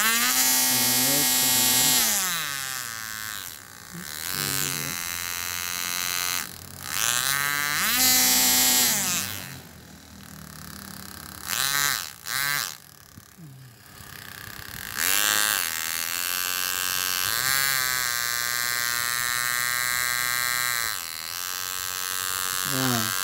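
A small DC motor (dinamo) runs on a variable power supply, its whirring buzz rising and falling in pitch as the potentiometer changes the voltage, with brief dropouts and someone speaking in between.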